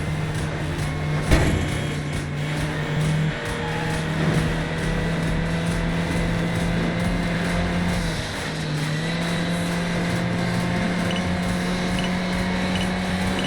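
A car engine in the racing video game Midnight Club: Los Angeles drones steadily with a sustained hum, rising and falling slightly in pitch over an ongoing racing soundscape, loud and continuous throughout.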